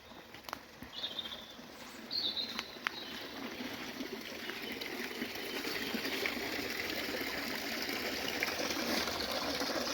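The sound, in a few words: spring water flowing in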